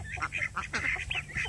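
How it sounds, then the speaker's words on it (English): Baby ducks quacking outdoors, a quick series of close, bright peeping quacks in irregular bursts, with a voice faintly in the background. "them ducks, them baby ducks right there, that one right there, boy, them things are pretty."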